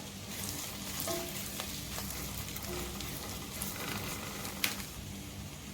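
Chopped ginger and green chili sizzling in butter in a hot pan, a dense continuous hiss with light spattering and an occasional stir, close and fairly quiet.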